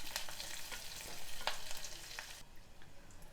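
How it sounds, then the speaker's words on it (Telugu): Onions and drumstick leaves frying in a pan, with a continuous close sizzle and light stirring ticks that drop away abruptly near the end. "నేను ఉల్లిపాయలతో పాటు మునగాకు కూడా వేయించుతాను. ఈ రెండు చక్కగా వేగనివ్వాలి."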